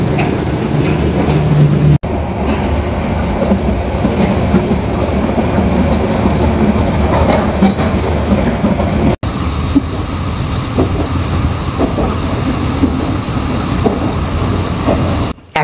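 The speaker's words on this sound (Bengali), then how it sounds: "আমাদের ট্রেনটি বিমানবন্দর রেলওয়ে স্টেশনে প্রবেশ করেছে।" A mail train runs on the rails at night, its carriages rumbling loudly and steadily close by with a rhythmic clickety-clack, and the sound drops out briefly twice.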